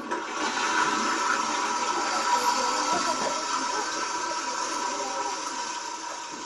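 A toilet flushes in a home bathroom with a loud, steady rushing of water that holds evenly from start to finish, with no voices.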